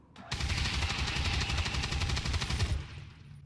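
Rotary cannon in XCOM 2 roars as a dense, continuous burst of rapid fire lasting nearly two and a half seconds, loud and close, cutting off abruptly.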